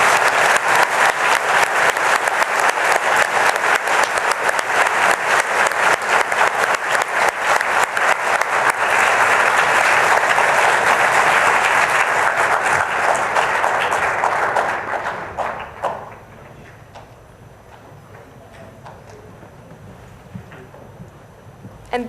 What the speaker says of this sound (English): Please give our veteran staff and guests a big round of applause.